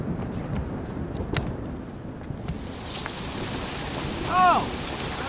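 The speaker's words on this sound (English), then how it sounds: "I think a storm's brewing." Rain falling steadily during an outdoor storm at a coastal lagoon reserve, a dense continuous patter with a few sharper drops and a brief faint squeak near the end.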